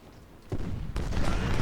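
Infantry volley fire in Ultimate General: Civil War during a Union campaign battle, two crackling bursts of massed musketry at a moderate distance, rolling into a sustained rumble.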